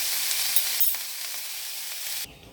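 Onions sautéing in a hot pan give off a steady, bright sizzle close by, which drops away abruptly near the end.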